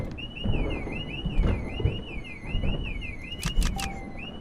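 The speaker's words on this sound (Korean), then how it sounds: "저기 뒤에도 경보 울리지 않았었나?" An alarm rings aboard an airplane in the horror game Nightmare Flight, a repeating warbling electronic tone over rumbling cabin noise, with sharp bursts near the end.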